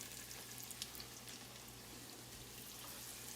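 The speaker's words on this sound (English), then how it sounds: "Hear that nice little sizzle" Breaded city chicken pieces, actually pork, sizzle steadily as they brown in hot oil in a pan, a soft, even crackling fry with faint pops and no voices.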